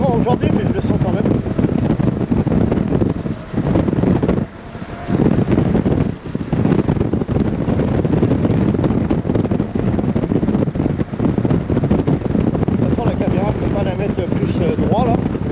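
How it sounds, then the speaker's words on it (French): Strong wind buffets the helmet microphone on a motorcycle ride, a loud continuous roar with brief dips, while a rider talks over it. "Il y a quand même moins de vent aujourd'hui, mais je le sens quand même."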